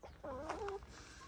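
A chicken gives a short wavering cluck in a village yard at Kalburcu, Kocaeli, faint and somewhat distant over a quiet outdoor background, a single call lasting about half a second.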